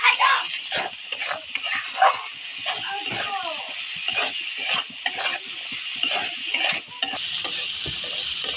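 Green peas fry and are stirred in a pan, with a loud, close sizzle broken by frequent scraping and clattering strokes from the utensil and brief voice sounds over it.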